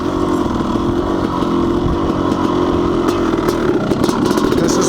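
A Honda CR500 enduro two-stroke motorcycle engine revs loud and close, a raspy buzzing drone rising and falling in throttle blips over a steady idle, with no talk.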